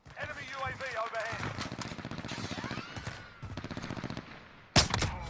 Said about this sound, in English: then I hear some shots from the neighborhood